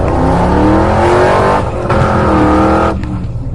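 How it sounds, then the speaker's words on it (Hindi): Cartoon sound effect of a car accelerating and driving away; a loud, close engine revs with rising tones, then sweeps off, the roar fading near the end. "खूनी जोकर सोन को गाड़ी में बैठाकर"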